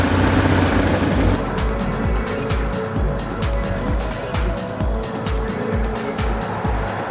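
A BMW R1100 GS motorcycle cruises along a road in Canada, its engine droning steadily up close with a throbbing low pulse and constant wind rush, loud throughout with no talking.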